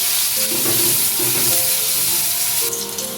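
Hog plums (amra) fry in a pan with turmeric and dry chili powder for a sweet-sour chutney, giving a steady, close sizzle with light stirring scrapes throughout and a brighter hiss near the end.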